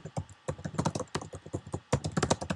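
Rapid, steady typing on a computer keyboard, close and clear, with dense bursts of keystrokes broken by a few brief pauses.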